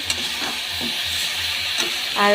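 Vegetables, including ridge gourd and potato, sizzle and crackle in a hot pan, a continuous close frying hiss with faint low hum underneath, no talking.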